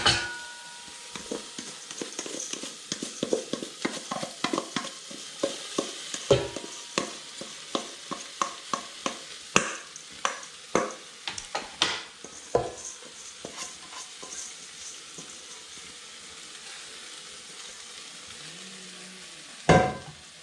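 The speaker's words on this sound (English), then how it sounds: "You add a little butter in, and then just toast the rice in that." Rice toasting in butter in a pan, a steady soft sizzle broken by frequent close scraping and stirring clicks of a utensil against the pan, with a few louder knocks, heard alone.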